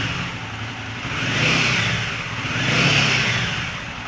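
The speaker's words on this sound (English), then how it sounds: "let the bike idle for some time" A Royal Enfield Himalayan 450 motorcycle engine runs steadily at idle nearby after an oil change, its loud rumble swelling gently twice without any talking.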